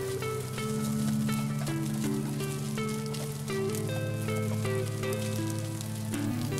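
Frozen fried rice sizzles steadily in a hot pan as it is stirred, a continuous crackling fry with scraping accents throughout, with a tonal hum and music-like lines running underneath.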